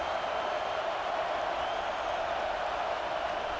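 A crowd at an American football stadium roars for its defense late in the game, a steady, unbroken wall of cheering noise throughout.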